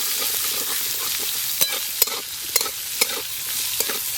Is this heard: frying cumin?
yes